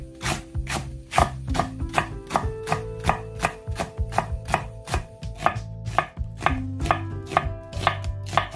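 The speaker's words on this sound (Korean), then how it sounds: "대파 한 단 넉넉하게 어슷 썰고" A knife slices through a bunch of green onions (daepa) cut on the diagonal, giving a rapid, steady run of crisp, close chopping thuds against a cutting board, loud and alone.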